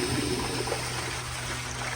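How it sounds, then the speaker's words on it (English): A 1992 ADA URC Apollo toilet flushing with the water pressure turned fully up, a steady close rush of water running throughout with a constant low hum beneath. "Here is another flush with the pressure turned all the way back up."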